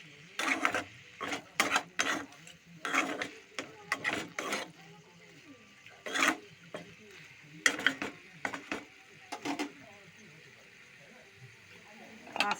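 Bengali chal kumro, ash gourd cooked with dried chilli tempering, stirred in a pan over low gas: repeated scraping, clattering strokes in irregular bursts, close and moderately loud, with quiet gaps between.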